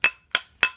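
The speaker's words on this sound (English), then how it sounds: "a lot of people take a nylon hammer and they'll just hit it like this." A nylon hammer strikes a coin ring being shaped, three sharp ringing taps in an even rhythm, each with a short metallic ring-out, close and clear.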